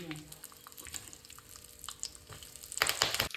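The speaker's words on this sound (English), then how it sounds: "After frying it, on the same oil add the curry leaves." Hot oil crackles and pops close by with scattered spits, building to a loud burst of sizzling near the end when curry leaves hit the pan.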